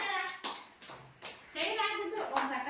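Children clap their hands in a few uneven bursts at an anganwadi games event for Nehru Jayanti, with young voices calling out over and between the claps.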